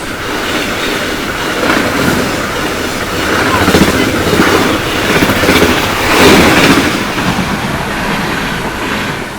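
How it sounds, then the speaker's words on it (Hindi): The Purvanchal Express, an Indian passenger train, rushes past while overtaking another train, making a loud, close, continuous rumble with clattering wheels and swelling bursts of rail noise. "लो भाई हमारी ट्रेन को ओवरटेक करके गई पूर्वांचल एक्सप्रेस।"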